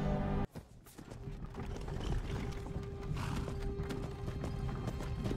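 Horse hooves clip-clopping while pulling a wagon in Skyrim Special Edition, modded, a steady clopping rhythm with creaking wagon noise after a brief pause at the start, moderately loud.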